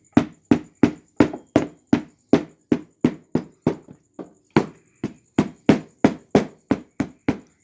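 A hammer taps under a model railway baseboard in a steady rhythm, about twenty sharp knocks on wood with a brief pause midway, close and resonant.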